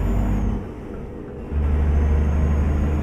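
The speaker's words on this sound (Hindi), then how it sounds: "ट्रक का साउंड भी बहुत ही ओपी है।" Tata truck engine in Euro Truck Simulator 2, a steady low diesel drone with a brief dip before it swells back up, loud and close.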